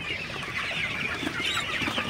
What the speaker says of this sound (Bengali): তো মুরগিগুলো একদম পাগলের মতো পানি খাইতেছে